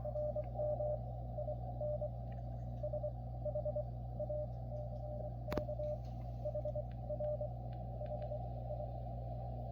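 Faint Morse code CW signal received on a Xiegu X6100 transceiver, short and long tones keyed in irregular groups, sitting quietly in a steady bed of radio hiss with one brief click, no talk.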